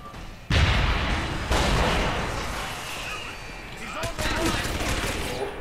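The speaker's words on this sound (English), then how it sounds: "Grenade!" A grenade explodes in Deus Ex Human Revolution, near a ventilation shaft where gas was thrown, with loud sharp blasts followed by rumbling gunfire and a second burst, while a voice speaks over the din.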